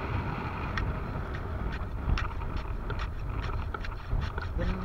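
Wind gusts steadily across a rocky seashore where shellfish are gathered, a rough, buffeting roar close to the microphone with brief sharper bursts and no voices.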